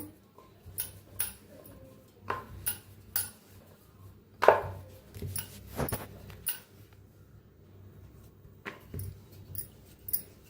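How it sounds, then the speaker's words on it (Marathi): Tomato puri dough is rolled out with a rolling pin, giving scattered wooden taps and knocks against the board at an uneven pace, close and fairly quiet. "गोळ बनवून घेतले ते थोडंसं पिठात बुडवायचं लाटून घेऊया"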